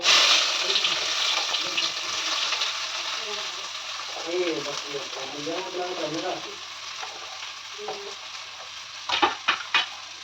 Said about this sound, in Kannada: ಇವಾಗ ನಾವು ಇದರೊಳಗೆ ಫಸ್ಟ್ ಈರುಳ್ಳಿ ಹಾಕಂತಿದ್ದೀನಿ ನಾನು